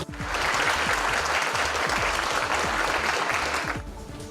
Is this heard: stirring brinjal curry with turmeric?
no